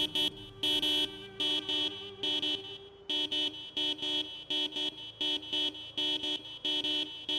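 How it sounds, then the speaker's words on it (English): Car horn in the video game Project Zomboid, beeping in a quick irregular series of short honks, some in rapid pairs, sounding loud and alone with no talk. "do a bit of beeping there"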